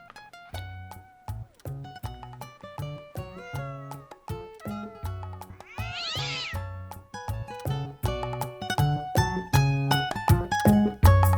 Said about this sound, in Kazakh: Ой, бір мысық қой.